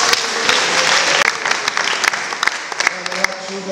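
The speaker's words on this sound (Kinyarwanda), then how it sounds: "dukomere Imana yacu amashyi" A church congregation claps together in a dense, loud burst of applause that continues steadily throughout, close and full, with no pause.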